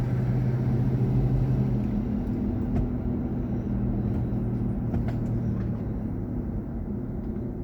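A car driving along, a steady low engine rumble and road noise with a constant drone throughout, fairly close and moderately loud, with no talking.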